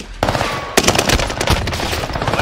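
Gunfire in the video game Warzone rattles off in rapid automatic bursts, sharp and close, in quick successive volleys.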